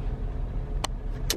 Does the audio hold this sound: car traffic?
yes